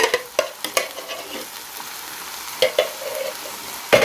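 Okra with meat sautéed in a pot, a spoon scraping and knocking in quick bursts over a low sizzle, with short pauses and a final loud clack against the pot.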